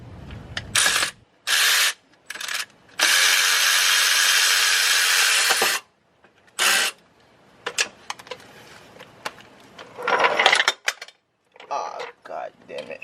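A ratchet with a 13 mm socket works an alternator bolt on a 3.2L Jeep Grand Cherokee from 2016 to 2020. It gives close, loud bursts of rapid clicking, including one long run, broken by pauses and a little metallic handling.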